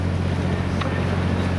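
A loaded tour boat on a canal in Bruges drones with a steady low engine hum and wind-like rush, close and constant, with no speech.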